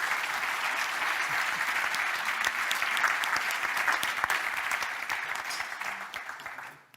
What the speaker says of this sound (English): A big round of applause, please, for this big collaborative effort to bring this forward.